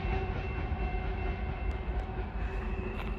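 A CN grain freight train rolls past close by, giving a loud, continuous rumble of wheels and rail cars with faint squealing tones throughout and no talking.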